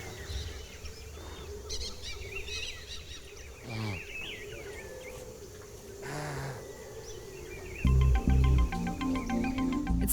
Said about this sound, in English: the birds are just everywhere.